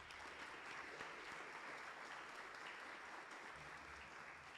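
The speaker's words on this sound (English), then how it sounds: "give you all a round of applause for the work that you've done in that space" A forum audience gives a sustained round of applause for panelists' work on closing the racial wealth gap: steady, dense clapping from many hands, even and continuous throughout, heard at a distance and fairly faint, with no voices on top.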